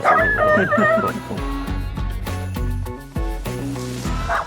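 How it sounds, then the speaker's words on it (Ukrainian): A very small dog barks and yaps repeatedly, loud and close, its barks merging into whiny, howling notes in a steady rapid run with no talk. "Саме маленька собака Бессарабии."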